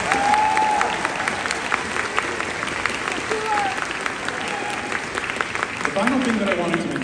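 A convention audience at an opening ceremony claps steadily in a large hall, the applause filling the space as a continuous crackle with a few brief whoops and voices rising over it.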